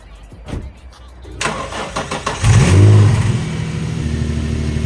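A Nissan 350Z engine cranks and catches at close range after a jump start, then settles into a steady low idle, with a brief rev as it fires up.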